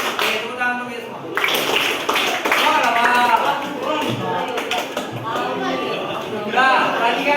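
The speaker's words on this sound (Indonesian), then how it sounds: "tepuk tangan untuk kita semua" Applause from a classroom of students, a burst of group clapping mixed with voices and chatter, with a teacher speaking around it.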